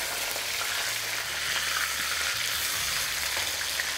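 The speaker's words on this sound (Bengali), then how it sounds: "এবার এই পিঠটা একটু ভালো করে লাল লাল করে ভেজে নিন" Katla fish head frying in hot oil, a dense continuous sizzle and crackle heard up close throughout with no voices.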